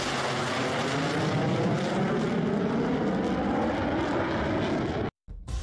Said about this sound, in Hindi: ये भी एक साथ टरमैक पर टहलते हुए निकलते हैं और फिर F-16 की उड़ान भी